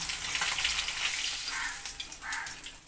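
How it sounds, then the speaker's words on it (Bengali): Katla fish fry in hot oil in a pan, a steady broad sizzle and crackle that runs throughout at moderate level with a few brighter bursts, no talking. "মাছগুলো আমার ভাজা হয়ে গেল এবার আমি মাছগুলোকে তুলে নিচ্ছি"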